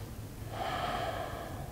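A single long breath is drawn and released while holding a seated yoga twist, a soft airy rush that swells midway, close to the microphone with no talk.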